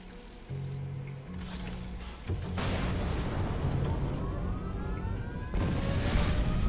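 A broad, rumbling explosion as an escape pod launches in a video game, a loud noisy burst building into sustained roar with a second swell near the end, no talk.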